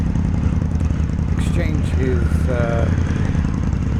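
Indian Scout motorcycle with a very loud aftermarket exhaust rumbling on a dealership lot during a test ride, a deep continuous engine throb with brief voices over it.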